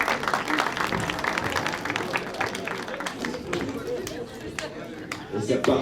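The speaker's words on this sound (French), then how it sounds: "On l'applaudit très fort." Crowd at a horror-themed event in Boulogne applauding loudly, dense clapping with cheering and chatter mixed in and voices talking over it.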